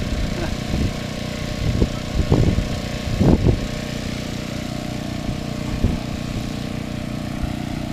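A Cobra Crusher rock crusher's small engine runs steadily at a mid-pitched drone, with intermittent louder crunching bursts as gravel is ground, close by and without speech.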